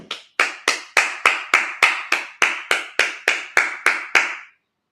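A congregation at a Sabbath service claps in unison, about thirteen sharp, evenly spaced claps at a brisk steady beat, then silence.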